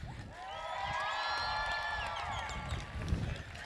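A graduation crowd at Shadow Hills High School cheers and whistles for the parents, a loud sustained roar with shrill whistles and whoops throughout.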